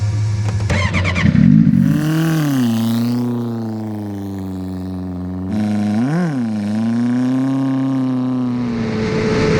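A race motorcycle, bike 3535, running flat out on the salt flats, its engine droning loud and steady with pitch rising through gears, dipping and surging once mid-run.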